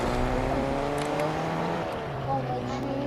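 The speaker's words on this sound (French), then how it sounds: "J'entends une voiture, elle est où?" A car driving close by in the video game Fortnite, with a steady engine hum and a revving note that rises and falls. A person talks over it.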